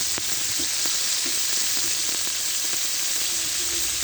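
A pan of red amaranth and stem greens fries with a small splash of water, producing a loud, continuous hissing sizzle and faint stirring scrapes throughout.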